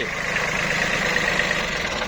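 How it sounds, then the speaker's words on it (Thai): Kubota B-40 14 hp three-cylinder four-wheel-drive compact tractor engine idling, a steady low rumble with a mid-range hum, close and constant throughout with no talk. "ตัวนี้ครับผมเครื่องยนต์สามสูบกับเครื่องสี่ล้อครับผม"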